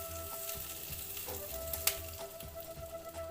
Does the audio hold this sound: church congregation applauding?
no